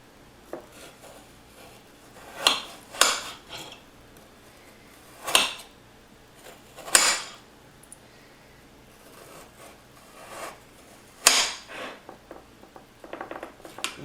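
A serrated knife saws through a frozen purple sweet potato in a handful of separate rasping strokes, each a short harsh scrape spaced a second or two apart, close up with quiet gaps and no talking.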